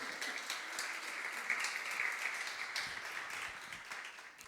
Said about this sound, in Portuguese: Você pode aplaudir o nome do Senhor?